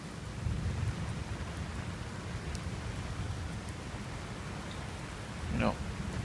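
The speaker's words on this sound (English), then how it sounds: "More rain starting to come in." Steady heavy rain from a non-severe storm over Miami's skyscraper skyline, a dense continuous hiss with low rumbling beneath and a brief louder swell near the end.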